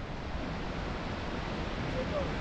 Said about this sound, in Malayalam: ഇവിടൊരു വെള്ളച്ചാട്ടമുണ്ട്,